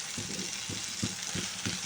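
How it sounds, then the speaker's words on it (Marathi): Spring onion greens sauté in a hot pan with turmeric, salt and spicy chutney, giving a soft steady sizzle broken by a few rhythmic stirring scrapes close by. "ही कांद्याची पात पण परतून घ्यायची आहे."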